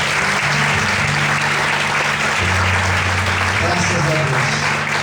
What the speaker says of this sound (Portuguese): Você pode aplaudir o Senhor nessa noite.